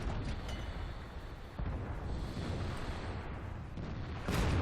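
Tank cannon fire and shell hits in World of Tanks during a clan platoon battle: a dense, continuous roaring rumble of loud blasts, with a sharper burst swelling near the end.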